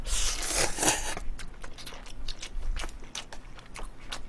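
Someone eats jjajang cup noodles with kimchi: a loud, close crunchy bite first, then a string of smaller wet chewing and slurping sounds at an irregular rhythm, with no talking.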